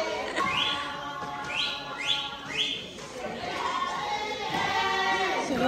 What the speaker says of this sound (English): She just learned how to whistle, so she keeps whistling.